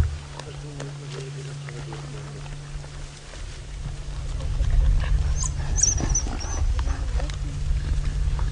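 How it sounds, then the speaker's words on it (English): African wild dogs fighting over a carcass let out a few brief, high-pitched squeals, rising over the steady low rumble of a safari vehicle at sunset, with people talking. "you can hear those high-pitched squeals from the dogs too"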